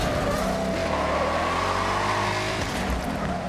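Racing video game car engine roaring loudly and continuously, with revving pitch shifts and a brief tire squeal, dropping off near the end.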